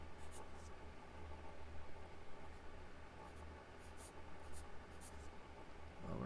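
Pencil or pen strokes on paper drawing Godzilla's spikes, a soft continuous scratching with short repeated strokes, close and fairly quiet over faint background hiss.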